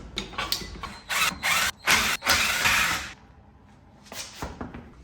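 Short bursts from an impact wrench spinning lug nuts off a car wheel, an Audi A3, several loud whirring pulses in a row with brief gaps, then quieter follow-up bursts near the end.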